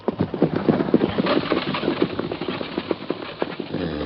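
Steady clip-clop of horse hooves, a brisk repeating rhythm at close range with a rough background rumble.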